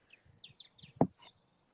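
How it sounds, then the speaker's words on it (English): Small birds chirp outdoors beside Lake Michigan, a few short, thin calls scattered in quick succession with a single sharper note standing out, fairly faint and with no talk over them. "I can hear the birds chirping behind you also."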